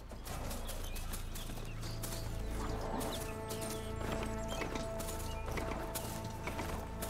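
A horse-like creature in the video game Horizon Forbidden West walks with soft, repeated hoof clops over a constant bed of game ambience and music.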